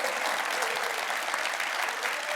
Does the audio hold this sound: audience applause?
yes